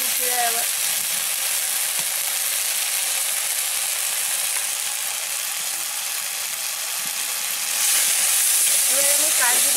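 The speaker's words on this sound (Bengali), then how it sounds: "একটু জল দিয়ে মশলাটা কষে নিচ্ছি" Spice paste frying in a pan with a splash of water gives off a steady, loud, close sizzle that hisses without pause and brightens near the end.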